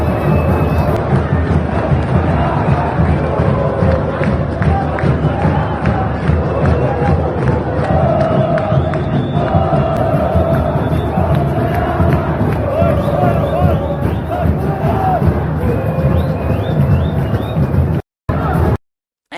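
Vasco football fans fill the stadium stands with a dense, continuous roar of crowd chanting and cheering, loud and steady throughout, with a brief dropout near the end.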